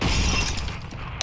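A flashbang grenade goes off in a shooter video game: one loud, close, crashing burst with a glassy, shattering edge that fades over about a second, then a brief tick.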